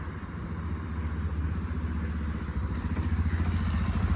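A motorcycle engine runs steadily and fairly close throughout, a continuous mid-pitched drone with a slight rise in loudness toward the end and no talking.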